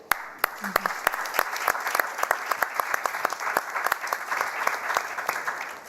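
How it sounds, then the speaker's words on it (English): A conference audience applauding warmly, dense steady clapping close by with sharp individual claps standing out, lasting the whole stretch without a pause. "may I also ask a warm applause for our August lineup of today"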